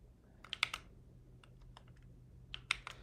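Keys clatter on a computer keyboard in two short bursts of fast, close taps with a pause between, during a live coding session.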